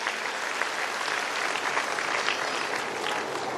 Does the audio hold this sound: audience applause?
yes